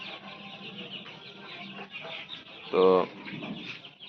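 Hybrid broiler chickens cluck and murmur on a farm, a steady low flock chatter with one louder cluck near the end, and a brief spoken word.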